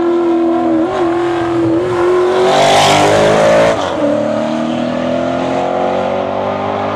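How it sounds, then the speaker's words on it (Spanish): Race car engines roar on Avenida Madero in Morelia, Michoacán, one loud close engine note climbing and swelling as a car blasts by, then settling into a steady high drone. "¡Que rujan los motores!"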